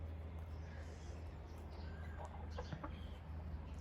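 Fayoumi chickens cluck and squawk in alarm, a busy, continuous flock noise with scattered sharper calls over a steady low background hum, fairly close and moderately loud.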